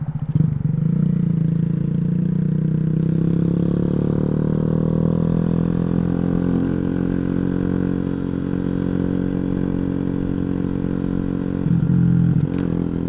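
A Boom Vader 125 motorcycle engine drones steadily while riding, a loud close continuous low hum with slight pitch rises and a brief rev near the end.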